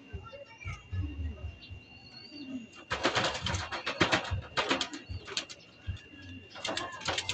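A domestic pigeon cooing close by in a loft, soft repeated coos and low rustling, with a person talking at moments alongside.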